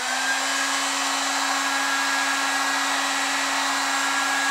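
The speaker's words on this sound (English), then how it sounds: "And I'll also show you the use of the heat gun." A heat gun blasts hot air onto a golf club shaft during club straightening, making a steady, loud, continuous whooshing hum with a constant low drone and no breaks or talk.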